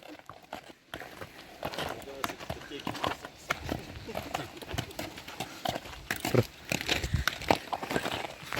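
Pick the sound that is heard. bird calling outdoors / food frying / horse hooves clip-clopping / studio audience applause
horse hooves clip-clopping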